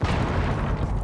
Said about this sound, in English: Oh, Pro League grenades.